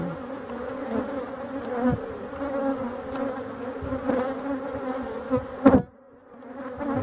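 Honeybees buzzing around beehives at an apiary during a varroa treatment with Apivar strips, a dense, steady swarm drone close by that swells and fades, ending with a brief knock before the buzz returns.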